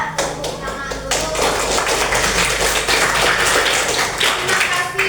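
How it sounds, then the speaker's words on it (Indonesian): A fifth-grade class claps hands together in a lively, rhythmic burst of sharp, close, repeated claps that continues for several seconds in a classroom. "Tepuk tangan dulu."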